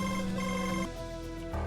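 A telephone rings in a quiet room with a bright, repeating electronic ring, close and clear, and no one talking.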